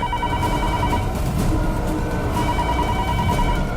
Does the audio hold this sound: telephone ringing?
yes